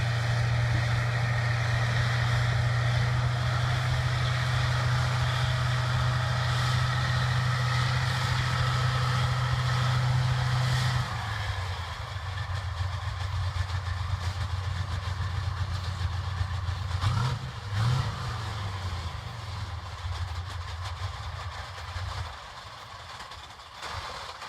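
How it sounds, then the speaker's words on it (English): A T-55 tank engine idles with a heavy, loud rumble after backing up, then the ignition cuts and the low drone drops away midway, leaving a fading, rattling run-down with a few clunks and creaks toward the end. "you guys can hear the what's left of this engine shutting down when it kills the ignition after they back it up"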